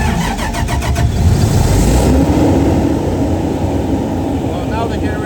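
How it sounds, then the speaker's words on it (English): A generator engine starting on a remote-start test with a jumper wire, cranking briefly and then settling into a steady, loud mid-pitched running drone with some tonal whine. "now the generator is running"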